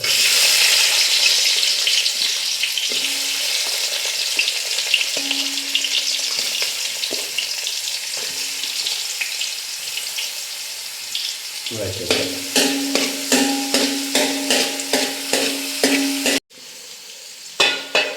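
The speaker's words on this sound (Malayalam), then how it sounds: "അപ്പോൾ വെളിച്ചെണ്ണ ചൂടായിട്ടുണ്ട്. നമ്മൾ ചെറിയ ഉള്ളി ആദ്യം ഇട്ട് കൊടുക്കാം." Shallots sizzle and crackle steadily in hot coconut oil in a pan, a loud, continuous fry that grows busier partway through, with scattered stirring clicks and no voices.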